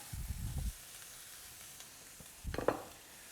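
Rice sweating in a hot pan for risotto, soft sizzling hiss with two short bursts of stirring and crackle, close and fairly quiet, no speech.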